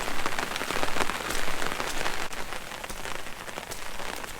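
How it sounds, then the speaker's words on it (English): Heavy rain drumming hard and steadily on an umbrella beside Yellowstone's Trout Lake, a dense, close patter of drops with no voices. "now it's raining just as hard as ever"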